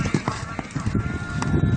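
Race horse hooves pound in quick irregular beats at a rural horse event, mixed with crowd noise and a voice.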